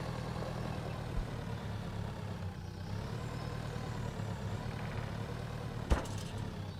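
A vehicle engine idles and runs steadily at a low, even drone in the Pure Farming video game, with a brief click and thump near the end and no talking.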